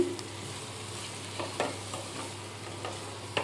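Chili powder and spices fry for a prawn and egg curry, a quiet, steady sizzle in the pan with light stirring scrapes and small pops.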